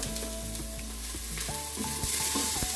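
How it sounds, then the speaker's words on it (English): Onion and spices sizzle steadily as they sauté in a pan for Filipino homemade pork and beans, a continuous close frying hiss with a few scraping stirs and faint tonal hums in the background, no talking. "So I'm gonna saute our spices."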